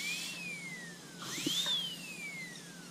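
A ball burr on a high-speed engraving handpiece grinds away metal, its thin whine gliding down in pitch, briefly dipping and climbing again with a faint tap; close and fairly quiet.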